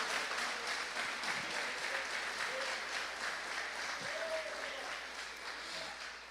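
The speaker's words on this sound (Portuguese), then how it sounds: "Bate palmas para Jesus." Church congregation clapping steadily throughout, a dense continuous applause filling the space, with a faint voice underneath.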